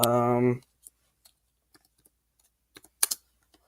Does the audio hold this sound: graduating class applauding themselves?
no